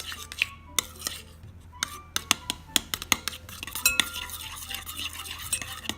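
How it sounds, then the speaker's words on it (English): A slime mixture being stirred in a bowl with a utensil, giving close, irregular clinks and taps against the bowl among soft wet scraping, with no talk. "And now we're gonna mix that well. Give it a good mix."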